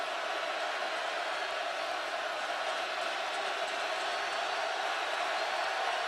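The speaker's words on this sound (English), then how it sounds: "Listen to this crowd." A football stadium crowd at a Miami versus Nebraska game, a dense sustained roar of cheering voices that stays loud and even throughout with no breaks.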